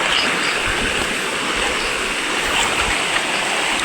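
Clear, cold water in a stream flows in a steady, loud rush, dense broadband gurgling and splashing that holds close and even throughout with no voices over it.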